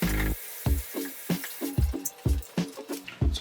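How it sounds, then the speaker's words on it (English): Water splashing in repeated bursts as a small plastic Sea Monkeys tank is rinsed under a tap, close and fairly loud, with short gaps between pours and no talking. "First thing I'm going to do is rinse this tank."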